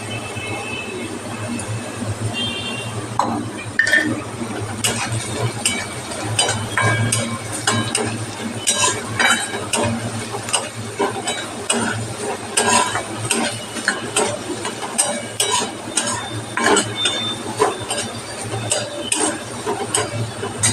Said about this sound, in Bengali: আলুটা ভাজা হয়ে গেছে, এর মধ্যে বাদামগুলো সব, কাজু কিশমিশ চীনাবাদাম সব দিয়ে দিলাম, দিয়ে ভালোভাবে মেশাতে হবে